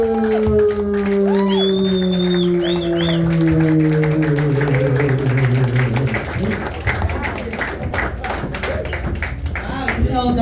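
A comedy club audience claps and cheers for a comedian: dense, sustained applause with whoops, close and loud, while a host's voice carries over it at first.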